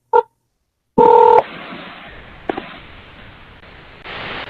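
Telephone keypad dialing tones during a call: a short beep and then a longer, louder two-tone beep, followed by a soft hiss of line static.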